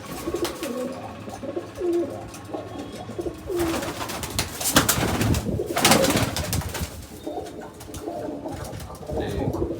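Pigeons coo repeatedly in low, throaty bursts, fairly close, over an outdoor background with occasional louder broadband noise and some chirps.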